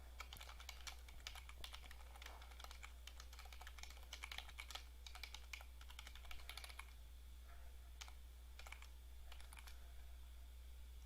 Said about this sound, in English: They didn't hire me to type fast.